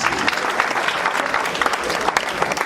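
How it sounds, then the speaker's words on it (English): Dense audience applause fills a hall at a Fantse Association anniversary and fundraising event in Columbus, Ohio, a steady wash of many hands clapping at once, loud and sustained throughout. "It deserves a better round of applause."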